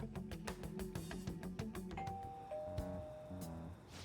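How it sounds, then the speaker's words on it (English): Doorbell in Persona 5 Royal rung repeatedly, a string of bright chimes over a steady musical background, with a sustained two-tone ding near the end. "Even Boss would have woken up with how many times we've rung this doorbell."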